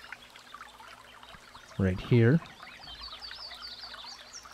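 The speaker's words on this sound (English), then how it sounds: "if we take our bucket and we go down here and we fill it up in this water point" A bucket being filled at a water point on a farm in Farming Simulator 22, a steady trickling pour running under a brief burst of speech.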